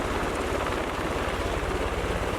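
An Army medevac helicopter runs with its blades rotating during training, a loud, close, rhythmic chopping thrum pulsing steadily with no speech over it.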